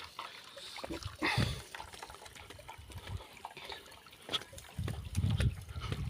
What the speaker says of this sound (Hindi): ये पानी ये पानी बहता है, टंकी भरी हुई है पूरी, पानी बहता रहता है इतना